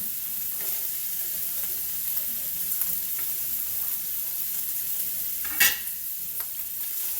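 Onion frying in a pan for a pork sugo, a steady even sizzle with a brief louder spit or scrape partway through, no voices.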